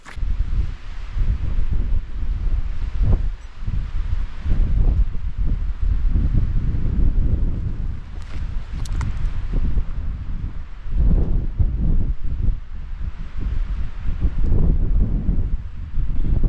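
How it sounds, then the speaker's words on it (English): Strong wind roars steadily across an exposed White Mountains summit in New Hampshire, buffeting the microphone with continuous low rumbling and gusty surges throughout, no voices. "It's definitely windy up here."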